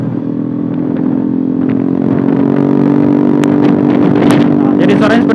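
A motorcycle fitted with an Eternal aftermarket exhaust rumbles loudly and steadily while riding along a road, its deep engine drone close to the listener, with faint clatter and a few sharp ticks near the end.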